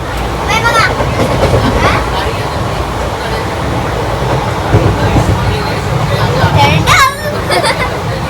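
A train rattles and rumbles along its tracks throughout, heard from inside a carriage, with children's voices and chatter over the steady clatter.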